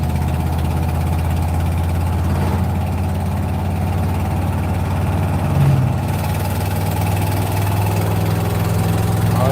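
Car engine droning steadily from inside the car while driving home along a country road, a loud, constant low hum and vibration with no breaks.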